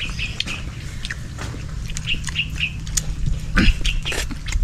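Several short bird chirps and calls ring out over a low, steady background rumble, with a louder burst of calls near the end.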